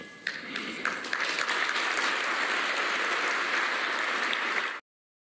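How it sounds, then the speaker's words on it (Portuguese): An audience applauds a speech about the dignity of young people, with loud, dense, sustained clapping lasting several seconds before cutting off abruptly. "João Mano Lourenço Álvaro, bateram-lhe palmas, não é? Porque falou da dignidade dos jovens"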